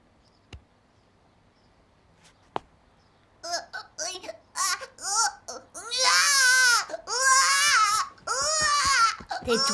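After a few quiet seconds with two faint taps, a young girl bursts into loud, sustained crying, sobbing in long wailing bursts that fill the rest of the moment.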